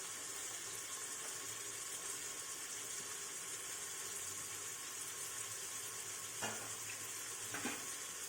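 Tomato and carrot are stirred into browned onions in a hot pan for vegetable pulao. A continuous soft sizzle runs throughout, and two brief scraping strokes come near the end.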